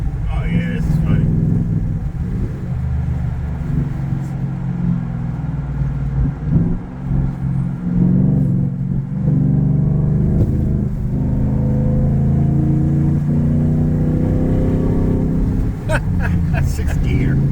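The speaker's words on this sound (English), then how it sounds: "Sixth gear. And it does rev matching. Rev match." A pickup truck engine rumbles close inside the cab while driving, revving up and down between gear changes with blips for rev matching, as people talk over it throughout.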